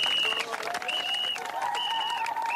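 An audience applauds after a speech, dense sustained clapping with sharp whistles rising over it, lasting a couple of seconds.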